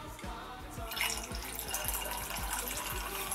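Stella Rosa Black wine is poured into a mixed drink, a faint liquid trickle with soft glugging pulses at a steady rhythm, close and quiet with no talking.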